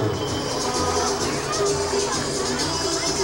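A carnival crowd at the 1997 Jaboticabal Carnaval applauds amid a dense hubbub of voices, steady and loud, with music faintly underneath.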